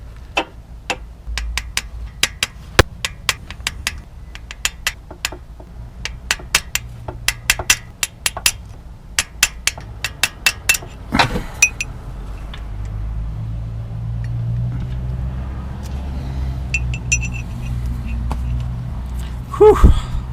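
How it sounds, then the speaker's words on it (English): A small hammer taps a chisel during a Ford Taurus coolant leak repair, delivering a long series of sharp, irregular metallic clicks close by, then giving way to low rumbling handling noise and a final cluster of taps. "Go ahead and take your little teeny hammer."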